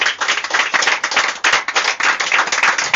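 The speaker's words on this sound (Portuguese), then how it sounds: "Aplauda ao Senhor por essa palavra." A church congregation claps together in praise, producing a steady, loud wash of many hands clapping that continues throughout without pause.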